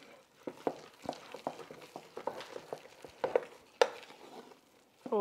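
Dairy-free mashed potatoes being mixed in a bowl after fresh cracked pepper is added, giving soft irregular scraping and knocking strokes of a utensil, close and fairly quiet, with no talking.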